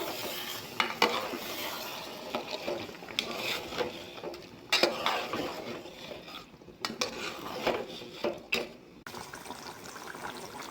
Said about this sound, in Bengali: এখন ভালো করে একটা নাড়া দেব।